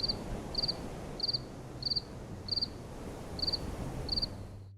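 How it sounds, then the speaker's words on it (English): Game sound effect of crickets chirping in Dream Daddy, short bright trills repeating at a steady, even pace over a low background hum. "Crickets!"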